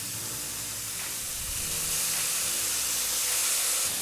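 Filling for summer rolls sweats briefly in a hot pan, a steady hissing sizzle that grows slightly louder partway through, with no talking.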